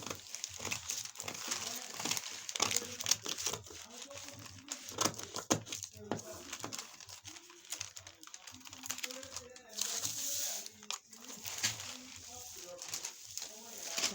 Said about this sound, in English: Let me flip my paper this way